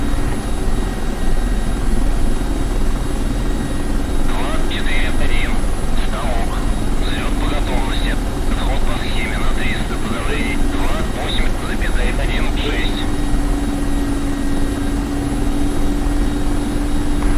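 Mi-24P Hind helicopter on a runway in the DCS flight simulator, a steady loud rotor and turbine drone running throughout with a voice talking over it partway through.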